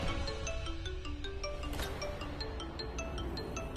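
A phone ringtone plays as a repeating electronic melody of bright, clear tones at moderate volume over a quiet room background, with no speech.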